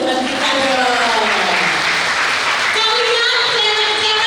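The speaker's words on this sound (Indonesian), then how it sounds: "Kasih tepuk tangan buat Tuhan kita dong" Loud, steady applause and cheering from children at a girls' kids camp session, filling the space continuously with voices mixed into the sustained clapping.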